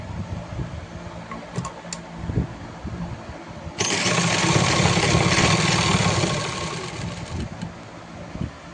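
An electric sewing machine stitches salwar kali panels together, its motor starting abruptly into a steady, loud whirring run for about three seconds before slowing, with quieter handling noises before it.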